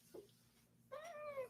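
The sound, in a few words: cat meowing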